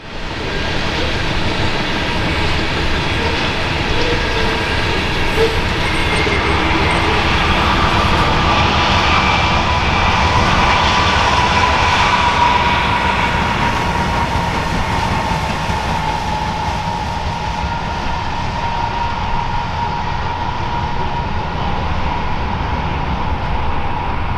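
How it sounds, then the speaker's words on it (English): A heavy BNSF ethanol freight train with three locomotives up front and three pushing at the rear climbs a steep Arizona grade, making a steady, loud rumble of engines and rolling cars that lasts throughout. "this heavy ethanol train had to be equipped with enough power to tackle all of the steep grades it would encounter along its trip"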